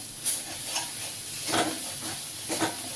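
Masala spices sizzling in a small amount of oil for egg curry, a continuous soft hiss with a few brief louder crackles and spatters, close and without talk.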